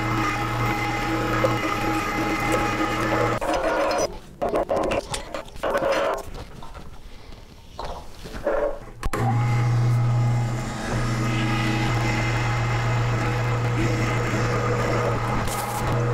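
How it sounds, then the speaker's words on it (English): A meat grinder with a 7mm die grinds cold, partly frozen venison, its loud motor running steadily before a gap of bumps and handling noise, then resuming its strong whirring hum. "My meat is between 29 and 30 degrees. That's going to be perfect for grinding."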